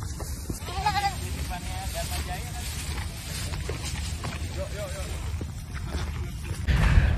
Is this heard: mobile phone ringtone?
no